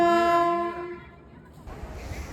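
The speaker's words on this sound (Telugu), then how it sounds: "40 minutes వెయిట్ చేసిన తర్వాత ట్రైన్ అయితే వచ్చింది" A passenger train pulls into platform 5 of a railway station, its horn sounding a long loud tonal blast before fading into the rumble of the rolling carriages.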